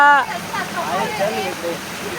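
A waterfall in the rainy season, its steady broadband rush of falling and flowing water running throughout while a voice calls out briefly over it.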